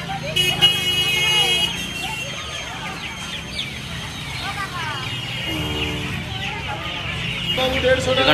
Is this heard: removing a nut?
no